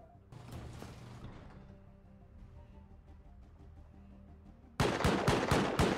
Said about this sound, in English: Oh, the turrets are doing some work.